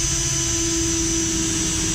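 Power tool driving self-tapping screws into an ice chest: a steady, continuous whine with a constant pitch, close and fairly loud and running the whole time, with no gaps or talking.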